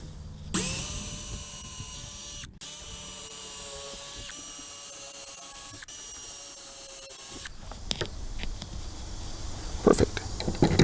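A power drill with a 5/32 inch bit bores into a shed door, whining loudly and steadily for several seconds with one short pause, then stops, followed by scattered handling noises.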